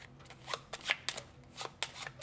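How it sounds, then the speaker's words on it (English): Quick bursts of a deck of cards being riffled and shuffled, several crisp flurries close by with brief pauses between them. "I'll just give these cards a little bit of a shuffle."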